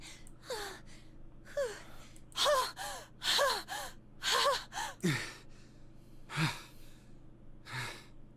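Heavy panting from characters in the visual novel game 999: a run of breathy, voiced gasps in uneven bursts, some strong and close, tapering to a few softer breaths, with no talk over them.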